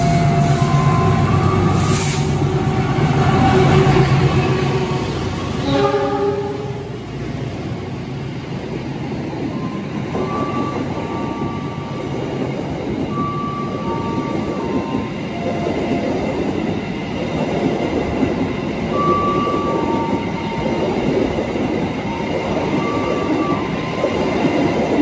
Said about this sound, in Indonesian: Yang melintas langsung itu adalah kereta api Taksaka dari stasiun Gambir tujuan stasiun Yogyakarta.